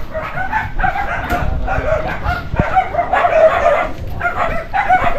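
Dogs barking at a distance on a mountainside, repeated yips and barks spread over several seconds amid rustling outdoor background noise, with no clear talking.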